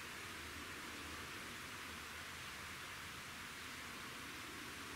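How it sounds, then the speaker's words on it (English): River water trickles beside a riverbank wild campsite at night, a steady, soft, even rushing hiss with no other sounds. "The water trickling."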